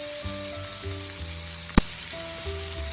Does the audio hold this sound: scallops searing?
yes